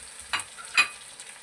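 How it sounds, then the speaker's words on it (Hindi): Chopped tomatoes hitting hot oil in a pan for ridge gourd sabzi, giving a soft sizzle with two brief spatula stirs and no talking. "अब मैं डाल रहा हूँ टमाटर इसी के साथ।"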